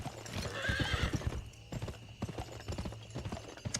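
Horse hooves clip-clop steadily in a Western cowboy video game, with a brief whinny near the start, the close rhythmic hoofbeats continuing throughout.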